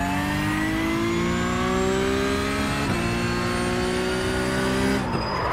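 A Porsche race car in the iRacing simulator screams at high revs with a steady, loud engine whine. Its pitch shifts briefly near the middle and again near the end as it slides into oversteer, with faint tire noise underneath.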